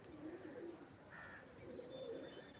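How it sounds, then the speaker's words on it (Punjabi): Pigeons coo softly in low, rolling calls with a faint chirp, distant and quiet against steady outdoor background noise. "ਇਹ ਕਬੂਤਰ ਬਾਜੀ ਆ ਵੇਖੋ ਜੀ ਨਵੇਂ ਪੱਠੇ ਕਰਦੇ ਉੜਦੇ ਜੀ"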